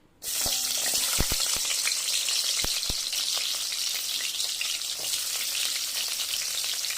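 Small shallots sizzle steadily in hot oil for a Tamil mutton curry, a loud, continuous frying hiss that starts abruptly and holds throughout, with a few sharp pops and spatters, no voices.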